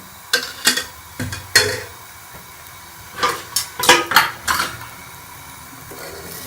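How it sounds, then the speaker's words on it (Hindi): Pan clatter and utensil scrapes come from an aloo paratha being oiled and flipped in a pan on the stove. Several sharp metallic knocks land close together, first near the start and again in a second cluster, with faint sizzling underneath. "हम इसके ऊपर तेल लगा के इसकी साइड को चेंज कर लेंगे।"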